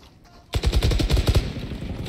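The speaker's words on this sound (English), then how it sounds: "I missed every shot because I was spraying and moving." Rapid automatic gunfire from a weapon being sprayed in the tactical shooter Valorant, a burst of about a dozen sharp, evenly spaced shots that starts abruptly after a quiet moment and fades into a brief tail.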